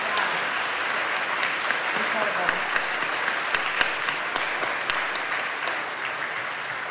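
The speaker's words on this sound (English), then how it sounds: "Give them another round of applause." An audience gives performers a sustained round of applause at a Black History Month event, dense clapping filling the room from start to finish, with a voice briefly exclaiming over it.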